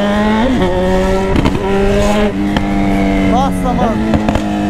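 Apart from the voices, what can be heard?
Honda CB1000 motorcycle accelerating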